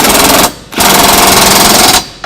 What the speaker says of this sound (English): I'm going to use my cordless impact and tighten them down. I'll be using a 19 millimeter.